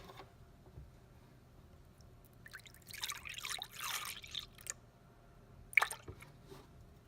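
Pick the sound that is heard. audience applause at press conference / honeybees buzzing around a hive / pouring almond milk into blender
pouring almond milk into blender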